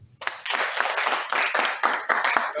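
At a workshop on assessment for dual mode universities in Nigeria, an audience claps for a speaker, with a dense, even burst of applause that starts suddenly and carries on for over two seconds.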